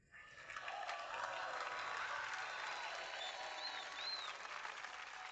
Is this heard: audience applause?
yes